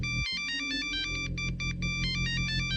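Electronic phone ringtone in a Minecraft game scene, a bright repeating melodic chime pattern playing steadily and fairly loud for the whole stretch, with a brief low thump near the start.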